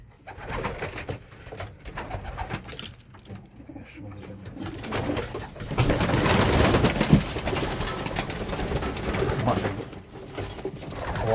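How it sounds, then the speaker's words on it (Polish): Homing pigeons coo repeatedly at close range, soft throaty calls rising and falling amid some background rustling, with no speech. "Są dwa gołębie czerwone."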